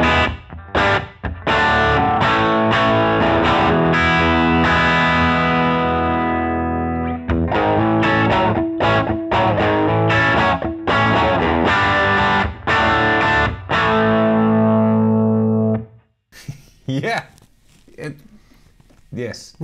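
Electric guitar driven through an OCD overdrive pedal with a touch of compression, playing a loud, dense rock-and-roll riff with sustained distorted chords for about fifteen seconds, then breaking off into a few sparse, quieter scraped notes.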